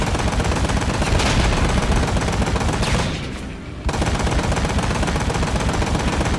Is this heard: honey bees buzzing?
no